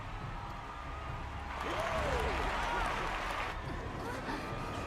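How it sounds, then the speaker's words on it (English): A crowd cheers in the video game Final Fantasy XIV Dawntrail, a broad, steady roar of many voices that swells partway through and holds at an even, moderate level. "How gracious of you all to cheer the lesser Claymans."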